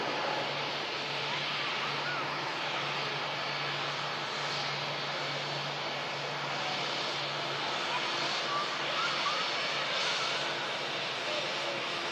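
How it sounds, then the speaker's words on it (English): Turkish Airlines jet airliner on its takeoff roll, heard from a distance as a faint, steady engine roar under a washy outdoor background, with no sharp changes. "Just initiating the takeoff roll now is the Turkish"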